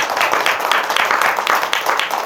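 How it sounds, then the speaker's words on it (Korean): A crowd claps steadily and densely for a couple of seconds, a loud burst of applause filling the room during a Buddhist temple Dharma service. "우리 염주 만들어주신 분들에게 박수 한번 주세요"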